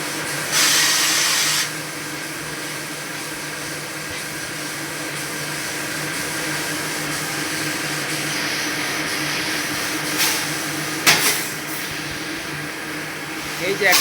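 A laser cutting machine cuts a mesh pattern into sheet material, giving a steady close hiss and hum with a few brief louder bursts of air throughout.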